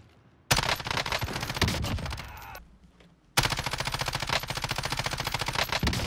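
A RAM-7 assault rifle fires in Warzone in two long, loud, rapid automatic bursts, separated by a short pause with fading echo, all close and without talk.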